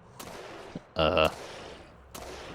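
Gunfire in the video game Fate of the Zone: a few sharp bursts, the loudest a dense blast near the middle, with another shot near the end, heard over a low background.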